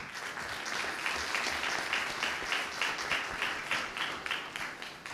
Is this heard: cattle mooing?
no